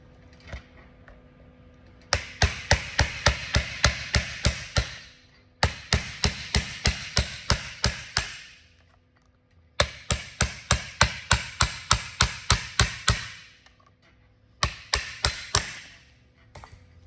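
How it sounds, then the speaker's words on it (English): Rapid bursts of sharp hammer blows on a chisel popping off a Teraflex Rzeppa front driveshaft joint cover, four rhythmic volleys of about eight to ten strikes each, loud and close with brief pauses between. "I got a chisel here, hammer, and you're just gonna pop this back cover off"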